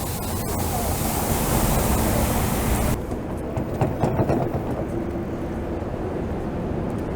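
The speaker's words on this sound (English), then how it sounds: "Getting up close and personal with these vehicles coming driving by" Vehicles roll past on a Greenwich Village street in New York City, a loud broad rush of traffic noise close by that fades into a quieter, hissing street hum.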